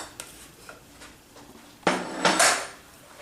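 A utensil clatters and scrapes in a bowl as a warm quinoa apple salad is mixed with scallions, with light taps at first and then a louder run of scraping near the end.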